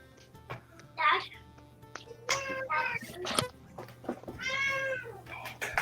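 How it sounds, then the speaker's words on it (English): A pet cat meows several times indoors, short plaintive calls that are close and fairly clear, mixed with a person talking. "My cat. Can you hear my cat?"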